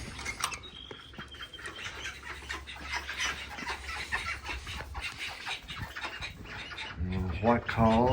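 White call ducks on a duck farm give several quacking calls close by, growing louder and more insistent toward the end, with farmyard background and people talking nearby.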